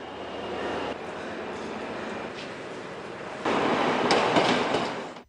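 A passenger train runs along the line, a steady rumble and rattle of rail cars that swells louder in the final seconds as it draws closer.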